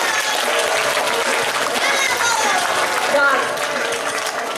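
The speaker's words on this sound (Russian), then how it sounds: "Аплодисменты." An audience applauds during the cast introductions after a puppet show of the fairy tale Morozko in Dubna, continuous, even clapping of a fairly large crowd with a voice faintly underneath.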